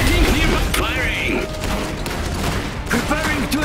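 Battlefield gunfire in the real-time strategy game Iron Harvest, dense rapid rifle and machine-gun shots with booming impacts, loud and close, mixed with brief unit voice callouts.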